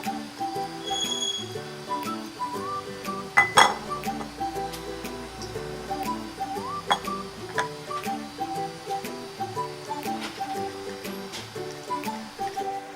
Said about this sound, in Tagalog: ilagay ko na lahat ang ingredients. Para sabay ko na lang sila i-mix.